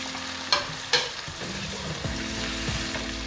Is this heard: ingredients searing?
yes